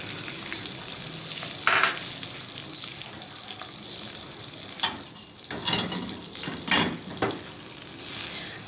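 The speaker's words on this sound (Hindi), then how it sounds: "अब मैं इसमें ये बादाम पिस्ते डालूँगी और ये मैं डालूँगी किशमिश।" Almonds, pistachios and raisins hit very hot ghee and butter for sheer khurma, giving bursts of crackling sizzle over a steady frying hiss, close and fairly loud, with a few stirring scrapes.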